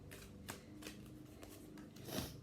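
A deck of oracle cards being shuffled, soft rapid riffling and flicking with a few sharper snaps, quiet and close with no talk.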